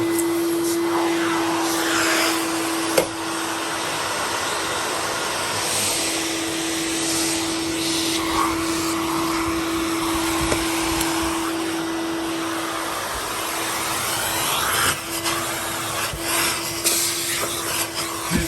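A Filterqueen Majestic 231UK vacuum cleaner runs steadily and loudly on its own, a constant motor whine with a sustained tone, with a few brief knocks and shifts in pitch as it is moved.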